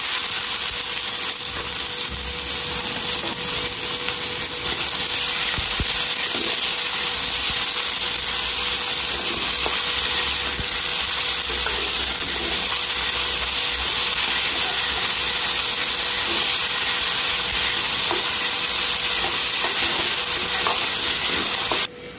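Onions hit hot oil already crackling with cumin seeds and curry leaves, giving a steady, dense sizzling hiss that holds evenly throughout with no voices over it.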